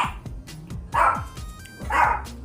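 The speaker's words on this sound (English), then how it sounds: "Excuse my dogs." Dogs barking indoors in a home kitchen, including a visiting dog, with a few separate loud bursts of barks and yips spread across the moment, close by and without talk over them.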